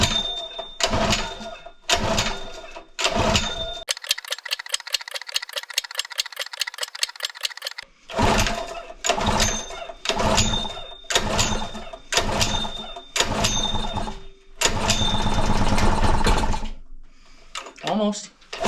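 A Honda GX-120 engine with no compression on an air compressor is pull-started repeatedly in rhythmic cranking bursts, with a short rapid clattering run in between, close and loud, before sputtering into a longer run.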